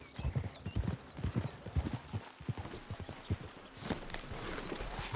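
Horses' hooves clip-clop steadily on a road in Red Dead Redemption 2, a close, even trot of hoof strikes under a faint whinny and ambient hum.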